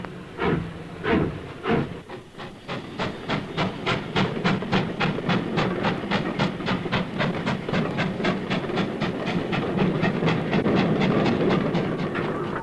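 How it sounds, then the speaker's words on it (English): Working steam locomotive and train running on rails, with a few slow puffs at first that quicken into a steady, rhythmic chuffing beat under a hiss of steam, loud and close. "Working locomotives and trains."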